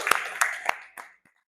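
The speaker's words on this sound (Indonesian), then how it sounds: "Kita tepuk tangan buat kita semua ya." A small group clapping in a classroom, four or five sharp, close claps fading out within about a second, then silence.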